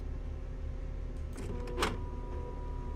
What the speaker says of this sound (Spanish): ¿Suena la impresora?